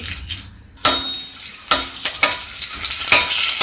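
Cumin, fenugreek and dried red and green chilies fry in hot oil, loud bursts of sizzling and clinks of a spoon against the pan, near and busy, no speech.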